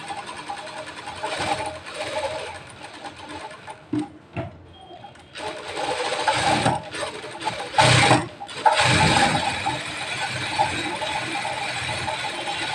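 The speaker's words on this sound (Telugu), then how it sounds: "స్పీడ్గా అయితే స్పీడ్గా వెళ్ళిపోయి రౌండ్ కరెక్ట్గా చుట్టుకుంటుంది దారం" A sewing machine winds thread onto its bobbin with a loud, close, rattling mechanical whir in repeated bursts that speed up and stop several times.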